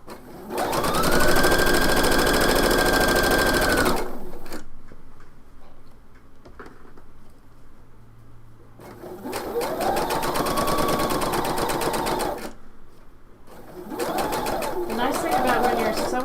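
A sewing machine stitches a garment sleeve in three sustained runs, its fast, even whir loud and close, with short quiet pauses between the bursts of stitching.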